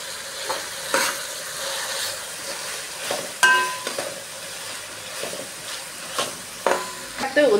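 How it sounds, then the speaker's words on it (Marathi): Asafoetida sizzles in hot oil in a pan for veg pulao, a steady frying hiss broken by scraping stirs and a few metallic clinks of a spoon against the pan. "हेही आपण तेलावर परतवून घेऊया"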